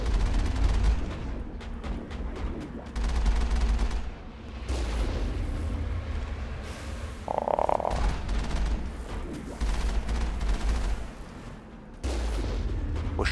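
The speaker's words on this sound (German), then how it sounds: "Wo schieße ich denn hin?" Gunfire in the video game Mass Effect while exploring the planet Trebin, with loud, dense shots and impacts over a steady low rumble, running through the whole stretch with brief lulls.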